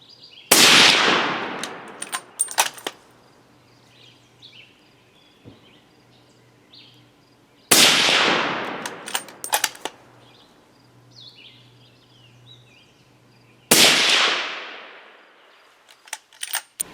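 Suppressed 7mm Winchester Short Magnum rifle fitted with a SilencerCo Omega, three sharp muffled shots spaced several seconds apart outdoors, each followed by a short echoing decay and faint impact sounds.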